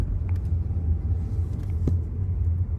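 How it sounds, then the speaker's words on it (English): A BMW E90 with a manual transmission downshifts on the road, its engine giving a steady, close, low rumble with no talk. "Okay, so downshift to third, fourth."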